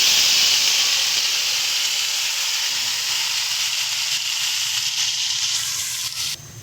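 Marinated chicken drops into hot oil with cinnamon, cardamom and cloves, giving a loud, close, steady hissing sizzle that eases slightly toward the end before a brief clunk.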